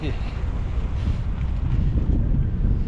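Strong gusting wind roars and buffets continuously and loudly against the microphone during an e-bike ride outdoors on a blustery day after heavy rain.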